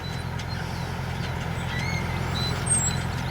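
A tractor crawls at one mile per hour across a young tobacco field while pulling a carousel transplanter, a low, steady engine rumble with faint clicking and rattling on top, no voices.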